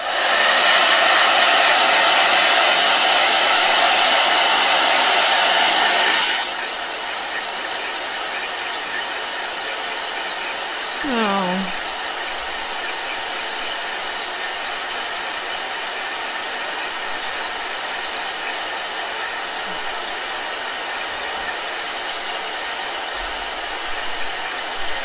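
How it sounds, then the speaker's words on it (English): A blow dryer runs loud and steady for about six seconds, then shuts off, leaving a low hum of room noise with a brief falling whine as it winds down. "Blow dryer."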